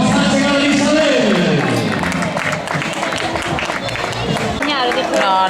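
Spectators at a popular fun run in Pobra do Caramiñal clap for a runner reaching the finish, steady applause mixed with crowd chatter and voices nearby.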